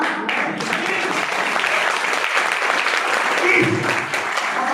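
Audience applause in a Hindi-language talk or comedy setting, a dense steady clapping that fills the whole stretch fairly loudly, with faint voices mixed in.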